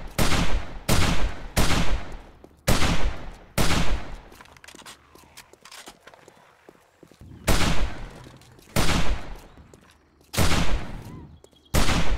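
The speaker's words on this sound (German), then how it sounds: "Wie viele Schüsse müsst ihr euch denn reinknallen" Gunfire in the video game 7 Days to Die, loud booming shots in repeated clusters, a quick run of them at the start and more later, with a quieter stretch of rustling and game noise in between.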